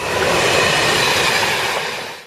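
A train passes close by in a loud, continuous rushing roar of wheels and rail noise that holds steady before cutting off abruptly at the end.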